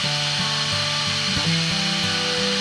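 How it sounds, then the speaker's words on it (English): A wood lathe spins a wooden bud vase blank for a beginner woodturning project, giving a steady close-up motor hum with tonal whine and rubbing texture throughout, with slight shifts in pitch. "So let's get the lathe spinning."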